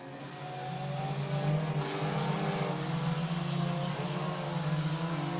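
Race cars circle a racetrack in a steady, moderately distant engine roar that builds after a quiet start and holds through the rest.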